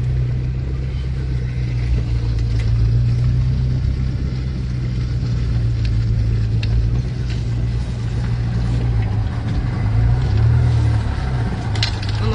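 Vehicle engines running near a destroyed convoy outside Kharkiv, a steady low idling rumble close by, continuous throughout with faint scattered knocks.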